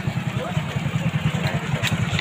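Motorcycle engine idling at a school after riders have stepped off, a steady low rumbling throb running throughout with faint background activity.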